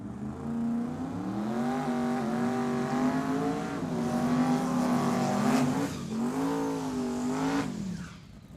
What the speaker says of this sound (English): Quite the burnout there for the left side. Really getting those tires warm and ready to make a fast pass there.